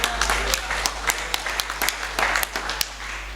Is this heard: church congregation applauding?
yes